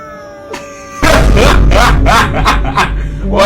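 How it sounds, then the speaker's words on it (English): Irritated cats yowling: a faint chirp, then a sudden run of loud, wavering, drawn-out yowls and cries that rise and fall one after another, close and harsh. "Why do cats do that noise?"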